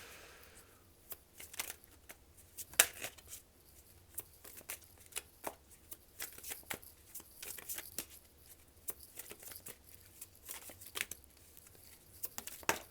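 Tarot cards being shuffled and drawn by hand, soft close riffling, slaps and crisp flicks in an irregular rhythm, quiet and alone without talk.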